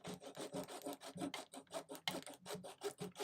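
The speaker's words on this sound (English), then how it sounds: "I've got my little army painter handsaw" A small Army Painter hobby handsaw cutting with fast, even back-and-forth strokes, each one a close, dry rasp. The strokes repeat steadily at a brisk rhythm and the sawing is heard on its own.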